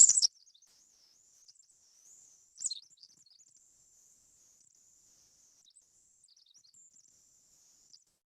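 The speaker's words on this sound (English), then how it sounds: "here's a bird that lives year-round in Alaska, but it also sometimes decides that it wants to winter in Southern California" Songbird in Alaska's Prince William Sound giving thin, high, wavering whistled notes, a brief loud burst at the start, then a long, faint, sustained thread of song with a small accent midway.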